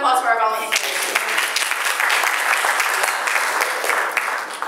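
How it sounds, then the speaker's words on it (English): Audience applause at a church worship service, a steady, dense burst of clapping from the seated congregation that starts right after a short voice and continues evenly throughout, fairly loud and close. "Big round of applause for our volunteers"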